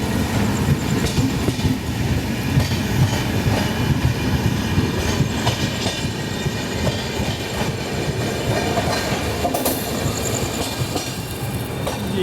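Ajanta Express passenger train departing on an Indian route toward Mumbai, steady loud rumble of coaches rolling on rails with faint clickety-clack and occasional wheel squeal throughout, no talking.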